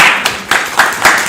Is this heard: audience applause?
yes